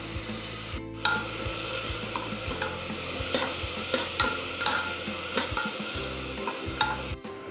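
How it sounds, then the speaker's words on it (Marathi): Three onions fry in oil in a pan for a spicy prawn curry, a continuous close sizzle broken by repeated scraping and stirring of a spatula against the pan, with no talk. "हे 3 कांदे मी आता याच्यामध्ये घातलेले आहेत. हे आता व्यवस्थित भाजून घेऊयात, तर तेल सुटेपर्यंत, थोडेसे ब्राऊन होईपर्यंत."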